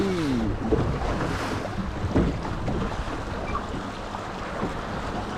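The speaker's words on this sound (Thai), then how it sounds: "ดูคลื่นทะเลน้ำจืด" Wind-driven waves wash and slap against a boat on a large freshwater lake during a fishing trip, steady choppy water noise with heavy wind buffeting the microphone throughout.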